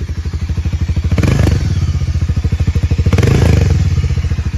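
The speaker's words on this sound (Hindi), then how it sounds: "इंजन का साउंड आप सुन सकते हैं कुछ इस प्रकार का," A Hero Harley X440 with a 440cc engine runs close by with a loud, steady, thumping idle pulse, swelling twice into brief throttle blips.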